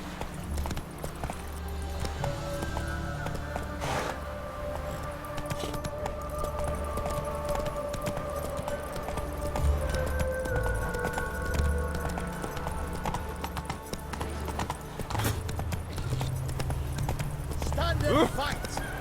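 The horse Roach in The Witcher 3 trots with steady clip-clopping hooves, heard continuously under game sounds and voices talking.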